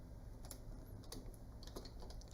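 Typing on a computer keyboard during customer data entry in business software: quiet, close key clicks in uneven bursts over a steady background hum.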